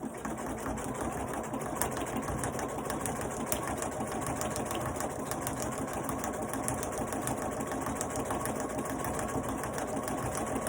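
A sewing machine runs steadily, stitching right over the edge of a fabric gift box ornament with a continuous, fairly quiet mechanical whir and fast needle ticking throughout.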